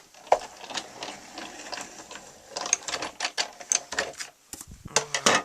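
Paper is run through an embossing machine with a stone folder, giving a busy run of dense clicking, rattling mechanical sounds with no talking.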